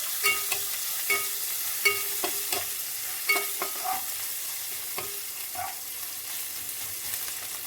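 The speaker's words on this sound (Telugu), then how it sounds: "నెక్స్ట్ పచ్చిమిర్చి వేయండి, అవి కూడా వేగనివ్వండి బాగా." Green chillies frying in oil in a pan and being stirred, with repeated scraping clinks of a spoon against the pan over a steady low sizzle, close by with no talking.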